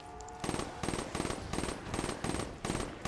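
A new gun firing in a zombies video game: six evenly spaced bursts of rapid automatic fire, loud and close, each a dense rattling cluster with brief gaps between.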